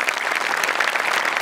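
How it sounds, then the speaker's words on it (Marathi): An audience at a Marathi comedy show applauds a team, giving dense, loud, continuous clapping from many hands for a short burst. "इथं जोरदार टाळ्या टीमसाठी."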